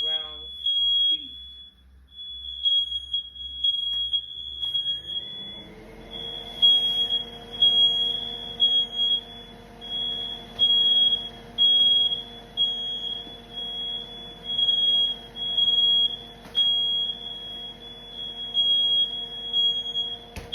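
A smoke detector in a home kitchen sounds a high, piercing alarm tone in a repeated beeping pattern that runs throughout, loud and near, while a person talks over it at length.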